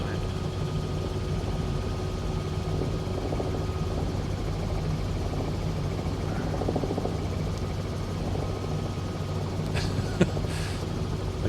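A steady, loud engine and rotor drone from a simulated Robinson R66 helicopter, the CowanSim model in Microsoft Flight Simulator 2020, on a scenic flight over Sydney. It sounds continuous and even, with a faint radio-like blip near the end.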